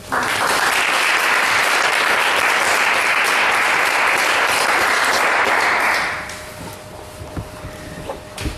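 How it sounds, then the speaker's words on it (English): Audience at a lecture on The Politics of Friendship giving a round of applause, loud and dense from the start, then fading out after about six seconds into a few scattered claps and room noise. "Shall we give a round of applause?"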